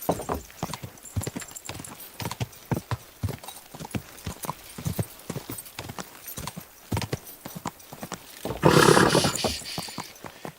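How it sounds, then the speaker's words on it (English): Horse hooves clip-clop in a steady run of sharp knocks, close and fairly loud, ending in a brief burst that sounds like a whinny. "Easy, good horse."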